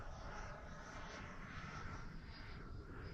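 An FMS F-86 radio-controlled model jet on its maiden flight whooshes steadily overhead, a continuous airy roar at moderate distance with no break.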